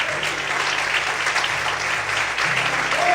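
A church congregation applauds in praise, a steady crowd clapping that fills the whole stretch, with a faint voice or music tone underneath.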